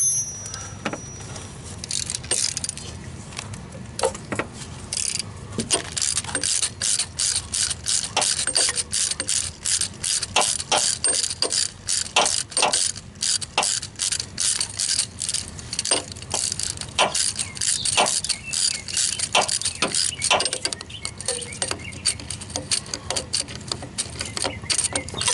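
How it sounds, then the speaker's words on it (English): A ratchet clicks rapidly and repeatedly while timing belt tensioner and idler pulley bolts are removed on a 2001 Ford Focus, close and steady with short pauses, and faint talk now and then. "next I'm going to take the tensioner pulley for the timing belt off and the idler pulley for the timing belt off"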